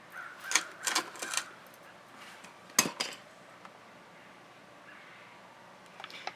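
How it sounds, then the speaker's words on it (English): A spatula tossed into a bucket during fluid art pouring, giving a cluster of bright clattering clinks near the start, then one sharp knock, then a faint tap at the end, close with quiet pauses between. "Throw that spatula in the bucket"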